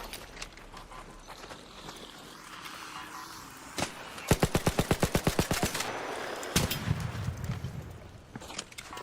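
Rapid automatic fire from the Anvil weapon in Arc Raiders: a dense burst of around a dozen evenly spaced sharp shots in quick rhythm, followed by a heavier blast, over game ambience and scattered impacts.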